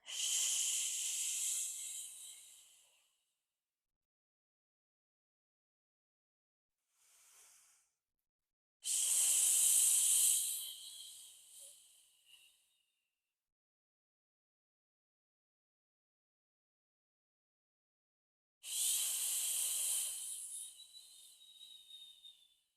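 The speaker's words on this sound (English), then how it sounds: "Inhale, exhale" Forceful, hissing breaths drawn in and pushed out during a supine banded hip flexion exercise: three long airy bursts with a faint short one between, separated by silence, close to the mic and with no talk.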